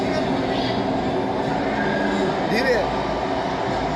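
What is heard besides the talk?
train moving in a video game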